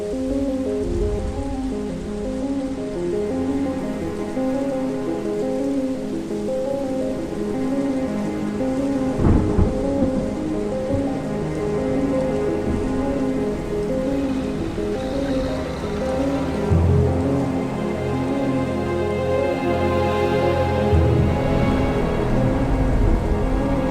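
Steady, heavy rain falls in a steampunk industrial warfare game, with a constant dense patter and low rumbles of thunder swelling a few times in the background.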